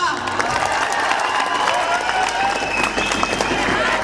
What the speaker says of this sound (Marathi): टाळ्या वाजून आवाज होतोय